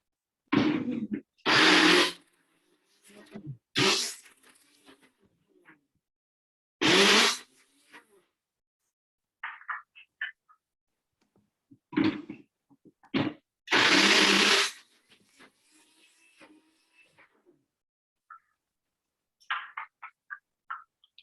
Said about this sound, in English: we've got like a actual blender here, so I'm just putting them in this and blending them up